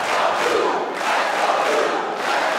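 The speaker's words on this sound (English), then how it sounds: "This crowd is into it." A large arena crowd at a 2014 Big Ten college wrestling bout at 157 pounds, Penn State against Michigan, roars and cheers loudly and steadily, swelling in waves with no break.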